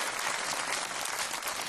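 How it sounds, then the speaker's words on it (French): Audience applause for Emmanuel at a French children's choir show, dense and sustained clapping from a large crowd filling the whole moment without a break. "Et un tonnerre d'applaudissements pour Emmanuel, s'il vous plaît, mesdames et messieurs."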